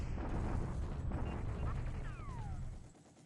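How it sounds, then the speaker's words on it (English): An artillery bombardment in the war strategy game War in the Pacific sounds as a dense, continuous rumble of heavy booms. A few rising tonal whines cut through it before the barrage fades away near the end. "That's a really nice bombardment here."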